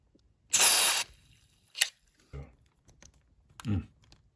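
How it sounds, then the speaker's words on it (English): Short bursts of DeoxIT Gold contact cleaner sprayed onto potentiometers and switches of a Heathkit HW-101 radio: one loud half-second hiss, then brief faint spritzes and small clicks close by in a quiet room. "I'm going to hit the potentiometers and those switches with deoxit gold because it has a lubricant"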